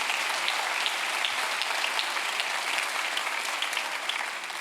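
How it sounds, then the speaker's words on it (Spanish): A church congregation gives the Lord a loud, sustained round of applause, with dense, steady clapping from a crowd that fills the room and holds an even level throughout. "Así que dale un aplauso fuerte al Señor."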